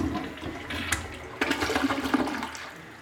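A Glacier Bay dual-flush toilet flushes close by, a sudden rushing swirl of water that surges and gurgles for a few seconds before starting to ease.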